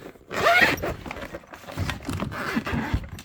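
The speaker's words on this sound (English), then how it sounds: "and unzip this." Zipper on a violin case is pulled open close by in a few quick, rasping drags, with a louder burst near the start and softer, halting zips after it, with no talking.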